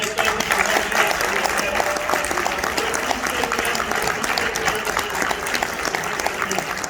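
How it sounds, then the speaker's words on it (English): A lecture audience claps and applauds loudly and continuously, a dense sustained patter of many hands with no break. "let's give West Orange High School a round of applause."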